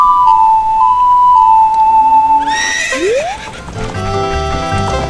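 Epona, the horse in the video game Zelda Ocarina of Time, gives a loud, rising whinny after a held musical note, followed by quick clip-clop hoofbeats.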